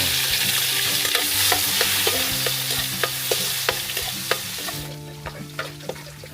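Garlic sautéing in a pan for loming Batangas, a steady close sizzle of frying with repeated scraping stirs of a utensil against the pan throughout, no voices.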